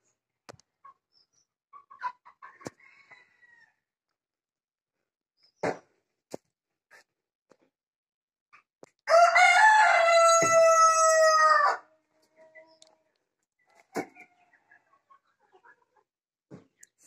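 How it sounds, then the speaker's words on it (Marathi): A rooster crows once loudly and nearby, preceded and followed by scattered soft clucks, scratches and clicks in a quiet village yard in Sindhudurg, Konkan. "इथे पण कोंबड्या आहेत."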